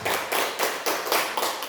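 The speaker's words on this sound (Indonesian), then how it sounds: "Kasih tepuk tangan dulu buat kita semua." A short burst of audience applause at a school teachers' gathering, with a few rhythmic waves of clapping, fairly close and loud, and no talk.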